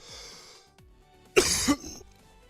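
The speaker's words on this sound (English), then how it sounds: "Sorry for all the coughing" A person clears their throat and coughs in one short, loud burst close to the microphone during a watch party for an esports Wild Card match day, with a quieter stretch before and after.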